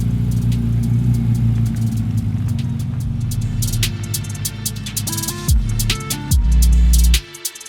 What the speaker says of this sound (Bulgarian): Излизаме да въртнем по едно кръгче на двете поршета